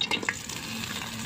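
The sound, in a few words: raw onion, green chili and garlic frying in hot soybean oil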